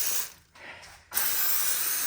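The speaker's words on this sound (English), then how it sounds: "get yourself some lube, spray it on your parking brake stuff" A close aerosol can of lubricant sprays in short hissing bursts onto the rusted parking brake linkage of a 2015 Jeep Wrangler Unlimited, with a brief pause before a longer, steady spray.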